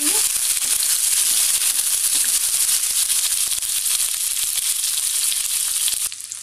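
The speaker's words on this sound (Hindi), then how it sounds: "फ्राई कर लेंगे इनको, साथ में ही हम ऑनियन भी डाल देंगे।" Paneer kofta mixture and chopped onions fry in hot oil in a pan, giving a steady, loud, continuous sizzle with faint crackles throughout, easing slightly at the very end.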